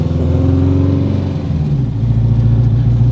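A Renault R5 Turbo 2 engine idles with a deep burbling exhaust, then revs up and holds a louder, rougher note, close by.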